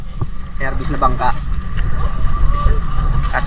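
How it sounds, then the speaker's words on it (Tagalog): A passenger boat island hopping in Palawan rides through strong wind and waves, with a steady, loud, low rumble of wind buffeting and water under a person talking throughout. "Malakas yung hangin saka yung alon."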